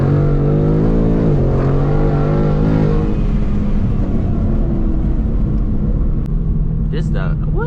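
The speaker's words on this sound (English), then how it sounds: "And then let's downshift. We're gonna downshift a little bit right here." Close, steady engine rumble from a 2022 Ford Mustang 5.0 V8 with a 10-speed automatic, audible as the pitch drops in a downshift and then climbs under acceleration; someone talks over it throughout.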